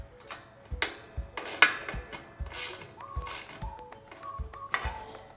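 Hand ratchet tightening hinge bolts on a Trailrax Gullwing bed rack for a Jeep Gladiator, with a series of close, sharp clicking pawl strokes in bursts and short pauses.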